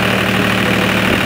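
A tractor engine idles steadily and loudly with a low, even rumble while pumpkins are planted and fertilized between rows on sandy Florida farmland; no voices are heard.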